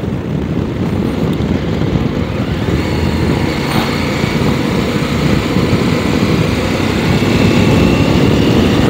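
A loud, continuous engine roar with heavy wind rush, the pitch and volume climbing slightly toward the end as a 2022 CFMOTO 800MT motorcycle accelerates.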